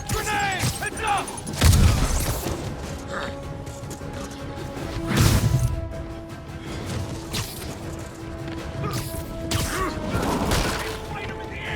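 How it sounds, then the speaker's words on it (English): Combat in the video game Spider-Man Remastered, with heavy booming impacts and crashes, one large blast standing out among mechanical clatter and thumps while voices shout in the background. "Grenade!"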